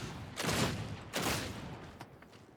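Two heavy, booming blasts from a shotgun-like weapon in Warhammer 40K: Darktide, each a broad burst that trails off over about half a second, followed by a fainter mechanical click.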